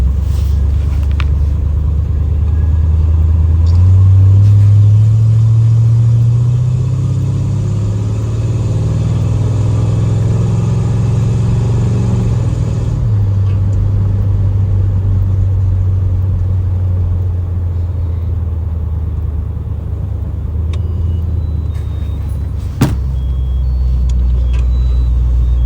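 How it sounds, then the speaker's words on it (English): A 1967 Chevrolet Caprice with a 454 big-block V8 accelerates hard with a loud, deep rumble. The engine pitch rises steadily, then drops as the transmission shifts up around midway, settling into a steady drone. "We're going to take it around the corner here, get it up to speed, let it shift through the gears a little bit"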